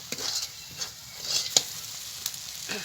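Ground tomato and spice paste sautéing in a pan for a chicken dish, a faint steady sizzle broken by a few light spatula taps and scrapes.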